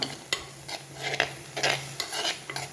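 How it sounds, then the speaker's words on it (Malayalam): A spoon stirs a stir-fry of bitter gourd and leaves in a pan, making repeated scraping strokes about twice a second over a low sizzle and steady background hum. "ഇളക്കിയിട്ട് കൊടുക്കാം"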